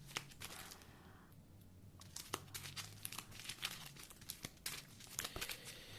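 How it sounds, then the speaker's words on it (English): Decks of Marvel Champions card game cards being shuffled by hand, close and fairly quiet, with crisp riffling and snapping bursts in an irregular rhythm and no talking. "I'm gonna shuffle the decks."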